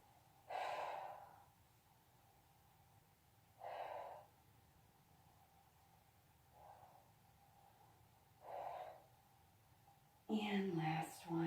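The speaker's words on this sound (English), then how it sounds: "Inhale and exhale." Slow, steady breaths during a guided full-body workout, with four soft exhale bursts spaced a few seconds apart over a quiet background, then a louder, rougher breath at the end.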